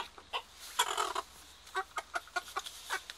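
Several chickens cluck in short irregular bursts, close by and moderately loud, as they are caught for Newcastle disease vaccination, with a quiet low background hum.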